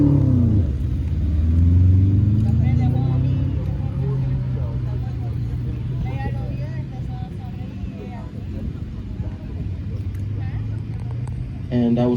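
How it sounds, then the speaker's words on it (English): A Ford Mustang launches off the start line at an autocross event at Daytona Speedway, its engine rumbling loudly and steadily throughout while a commentator talks over it. "And that was Lawrence taking off in that Ford Mustang."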